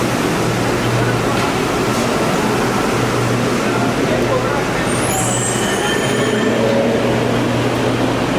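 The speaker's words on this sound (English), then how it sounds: "We are on the Chilean metro." A Chilean metro train runs with a steady, loud rumble and constant hum, a faint high wheel squeal rising midway, and voices talking faintly underneath.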